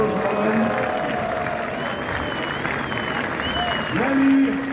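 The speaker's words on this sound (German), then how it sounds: "Gerne nochmal einen großen Applaus für diesen historischen Moment." A festival crowd at the Dresden Stollen festival claps in steady, broad applause for the cutting of the giant stollen, with an announcer's amplified voice and some festive tones over it.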